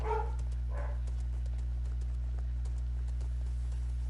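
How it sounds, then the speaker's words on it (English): Faint, steady clip-clop of horse hooves in a video game ticks along over a constant low hum, with a brief muffled voice-like sound at the start. "At least I hear a horse."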